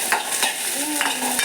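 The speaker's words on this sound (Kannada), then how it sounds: "ಅದರ ಜೊತೆಗೆ ಬ್ಯಾಡಗಿ ಮೆಣಸು ತಗೊಂಡಿದ್ದೀನಿ. ಒಂದು 6 ಬ್ಯಾಡಗಿ ಮೆಣಸು. ಇದನ್ನು ಚೆನ್ನಾಗಿ ಫ್ರೈ ಮಾಡೋಣ." Garlic and six Byadagi chillies fry in hot oil, a steady sizzle broken by a few sharp stirring scrapes and clinks close by, with no voices.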